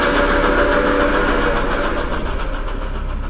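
A night train speeding along, with a steady loud rumble of rail noise, wheels and engine filling the whole stretch, no voices.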